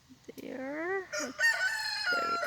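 A rooster crows on a homestead with chickens, goats and rabbits, one long rising and falling cock-a-doodle-doo near and loud, with a second bird's call joining toward the end.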